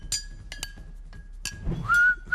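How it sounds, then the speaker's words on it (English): A person whistles a short rising note and holds it briefly, close by, after a few light glassy clinks and a faint steady tone. "Oh, now whistling."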